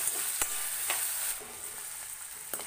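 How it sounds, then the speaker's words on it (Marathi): Potatoes sautéing in a pan until soft for a fasting-day bhagar amti bhat dish, a steady bright sizzle with a few sharp scrapes and clinks of a spoon stirring, close and without talk. "आपण आता हा बटाटा थोडासा नरम होईपर्यंत याला परतूयात"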